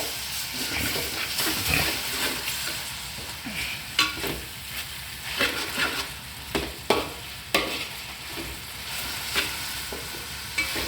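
Ginger garlic paste fries in hot oil in a pan, a continuous sizzle with a spoon scraping and stirring in sharp intermittent clacks, close and fairly loud.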